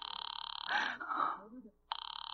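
An old-style telephone ring in a radio drama buzzes in a steady pulsing pattern, is interrupted by a voice gasping and speaking, then resumes ringing.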